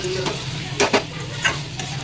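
Pre-fried potatoes tumble into a hot pan for egg curry and are stirred, giving a steady broadband sizzle broken by a few louder scraping stirs, close and with no talk.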